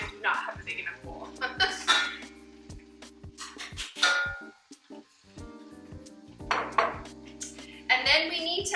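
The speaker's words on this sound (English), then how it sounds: "we're gonna switch out to a bigger bowl" Bowls and dishes clatter and clink on a kitchen counter during baking, with several sharp knocks spread through the clip, heard close under a person talking.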